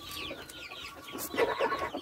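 Close, repeated clucking from a rooster in a poultry yard, a few short throaty bursts, louder toward the end.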